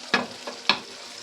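Fried soybean chunks are stirred into a sizzling pan of spiced Bengali soybean kosha, giving three separate scraping stirs over a soft, steady frying hiss.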